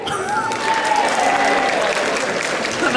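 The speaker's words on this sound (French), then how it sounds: "On applaudit pour le problème de son." An audience at a cosplay parade applauds after a sound problem is fixed, a loud, dense wash of clapping that holds steady throughout, with faint crowd noise mixed in.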